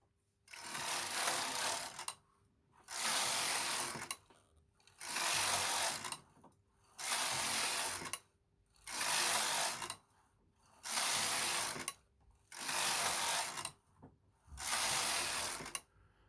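A Knitmaster Mod 150 knitting machine's carriage swishes across the bed in eight regular back-and-forth passes of about two seconds each, close and steady with short pauses between rows.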